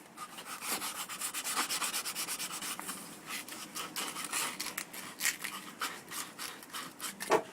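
Rough, rhythmic scraping of an old sanding disc rubbed back and forth by hand against a surface, close by, in uneven strokes with short pauses.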